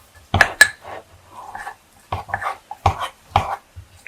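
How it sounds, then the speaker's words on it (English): A utensil stirs a thick, doughy mug-meal batter in a bowl, producing sharp clinks and scrapes against the dish in irregular bursts with quiet pauses between, close and with no talking. "Just stir it on up in your bowl."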